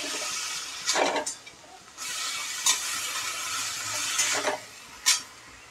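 Salted potato and spinach bhaji is stirred in a pan, a soft sizzling hiss broken by several scraping, swishing stirs at irregular intervals, close and fairly quiet.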